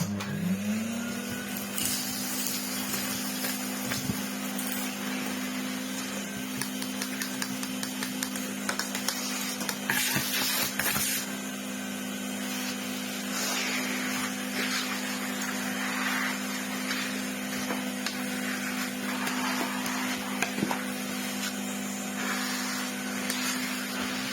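An older, almost childhood-era vacuum cleaner runs steadily with a constant motor whine and airflow roar, fairly close and alone, with a few brief rattles and bumps along the way.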